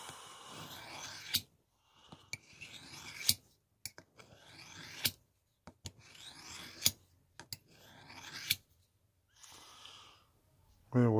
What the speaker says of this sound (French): On te coupe de la viande, mais de la viande dure.